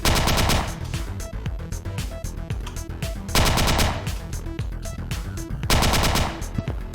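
Rapid automatic gunfire from a shooter video game, loud and continuous in three sustained bursts with brief lulls between, mixed with in-game clatter and no talking.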